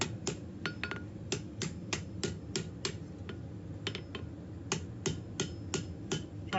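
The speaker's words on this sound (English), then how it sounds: "Trying to use the round side of my hammer to avoid damaging the steel as best I can." A hand hammer, struck with its round face, beats steel while a spear is forged, giving sharp metallic strikes in a fairly regular rhythm with a few brief pauses, close and clear over a low hum.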